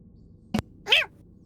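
A cat in the Pentiment video game gives one short, fairly close meow, preceded by a brief click or thump.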